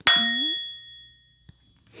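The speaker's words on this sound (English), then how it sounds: "I have my meditation bell" A meditation bell is struck once, giving a bright, clear ding that rings on and fades slowly over about a second in a quiet room.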